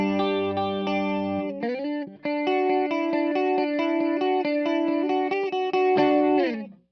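Guitar through a chorus effect on a Fractal FM9, sustained chords with a gentle shimmering sweep and a slide into a new chord, ringing steadily before fading out, close and clear with no speech.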